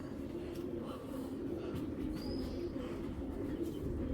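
A pair of Birder racer pigeons coos softly and steadily up close, with a faint brief chirp in the middle and a constant low rumbling bed of sound.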